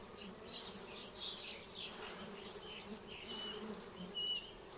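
Dwarf honeybees swarm around their nest in a hot forest, giving a steady, close, high-pitched buzz with individual bees zipping past now and then.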